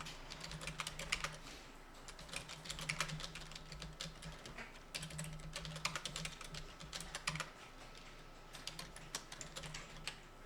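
Someone types into an Excel spreadsheet on a computer keyboard, giving quick, close clusters of light key taps separated by short pauses, with no voices.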